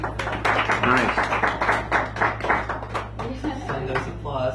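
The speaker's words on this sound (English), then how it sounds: "Send those applause off to Len" Audience at a poetry reading in a San Francisco cafe gives a burst of steady clapping, close and lively, continuing over a few seconds while a voice talks over it.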